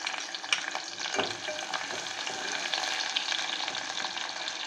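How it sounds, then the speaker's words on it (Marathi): Chopped onion crackling and sizzling in hot oil for a Malvani fish curry tempering, a steady close frying hiss with occasional stirring scrapes, no talk. "आता तेल गरम होत आहे। त्या तेलामध्ये आपण फोडणीसाठी ठेवलेला कांदा प्रथम टाकूया।"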